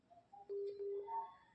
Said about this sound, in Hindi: योगेंद्र भाई की कॉल आ रही है।